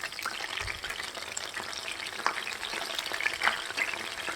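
Garlic cloves, then curry leaves, frying in hot oil, a steady crackling sizzle with scattered sharper pops and faint stirring scrapes, close and continuous with no talk.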